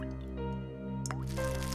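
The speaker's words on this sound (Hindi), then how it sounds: "नहीं, शायद कुछ टपकने की आवाज आ रही है। शायद लीकेज होगा।" Water drips from a possible leak inside a closed flat, giving a single distinct wet plop over a steady low electrical hum, close and fairly clear.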